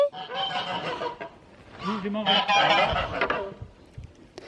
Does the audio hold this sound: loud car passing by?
no